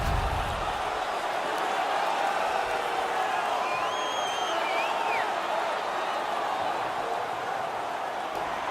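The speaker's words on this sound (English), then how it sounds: "The home crowd is ecstatic." A home crowd in a hockey arena roars loudly and continuously during the third period of a Stanley Cup Finals Game 7, a dense sustained cheer with a whistle-like tone rising above it.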